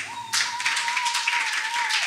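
A church congregation applauds and cheers for Jesus at a fiery prayer service, loud broadband clapping starting abruptly and sustained throughout, with a steady high tone running underneath.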